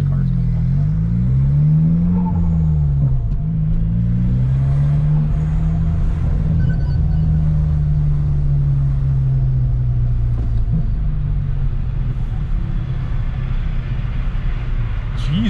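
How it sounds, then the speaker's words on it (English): A manual transmission Ford Fiesta drives through San Francisco streets, its engine note rising and falling through gear changes over a steady road rumble, heard from inside the cabin. "Now the car's going."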